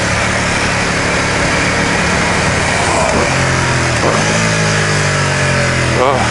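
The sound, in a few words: Ducati XDiavel motorcycle engine while riding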